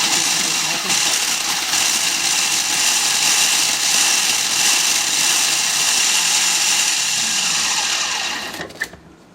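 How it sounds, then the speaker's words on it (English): A food processor crushes biscuits for a blueberry cheesecake base in a kitchen with a loud, steady whirring grind that runs for several seconds and then winds down with a rattle. "I'm going to use the food processor to speed out the process."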